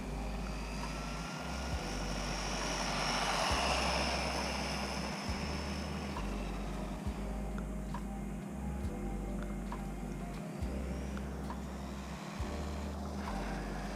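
Amoril 1:14 scale RC buggy driving, a steady high electric whine with regular low thumps beneath it, fairly faint and continuous.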